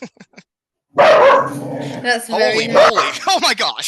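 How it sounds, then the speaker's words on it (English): A pet dog named Milo lets out sharp, close barks and yips in a sudden burst, mixed with people talking excitedly over and around them. "Yeah, that's my dog,"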